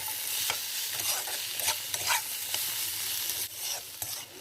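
Raw tomato and puti fish curry being stirred and sautéed in a pan over a medium flame, with a steady sizzle and repeated scraping stirs.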